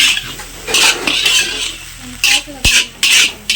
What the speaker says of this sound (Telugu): మళ్ళీ మొత్తం కలిపే అంతా కలుపుకోవాలండి